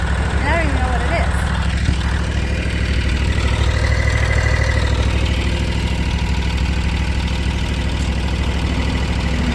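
A lawn mower engine idles in tall grass, giving a loud, steady, low rumbling drone that holds unbroken for the whole stretch.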